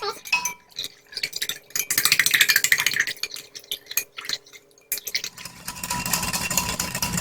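Lao meatball mixture is stirred by hand in a bowl with oil and white pepper, giving wet, squelching, rhythmic mixing bursts with clinks against the bowl, close and fairly loud, ending with steady rustling.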